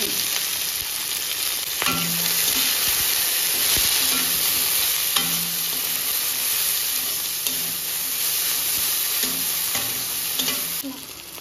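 Taro stolons frying with salt in a pan, a continuous sizzle with repeated stirring scrapes and clinks at a steady pace.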